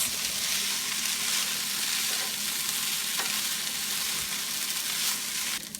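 Vegan lettuce wrap filling fries in a pan with a dense, continuous sizzle that stays loud and even throughout, heard up close with no talking.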